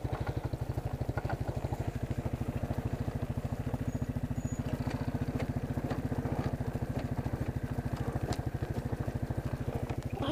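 A four-wheeler ATV engine runs in the wrong gear, its steady rapid low firing pulses chugging evenly throughout at moderate loudness with no talk over it.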